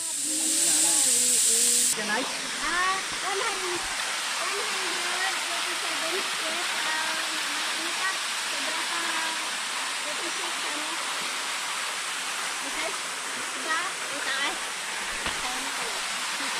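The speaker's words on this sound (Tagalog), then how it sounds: "nasa first station pa lang tayo ng tinatawag na Bugtong Bato Falls" Bugtong Bato Falls roars as a steady, dense rush of falling water that fills the whole stretch, loud and close, while voices talk over it throughout.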